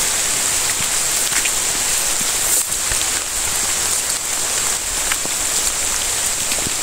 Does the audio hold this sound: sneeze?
no